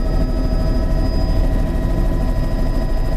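A low aircraft engine drones loud and steady throughout, with a constant rumble and faint tonal hum and no voices.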